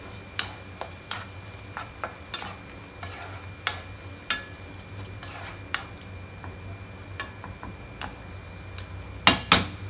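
A spoon stirs onion paneer masala frying in a pan, tapping and scraping against the metal in irregular clicks over a soft, quiet sizzle, with a louder cluster of knocks near the end and no speech.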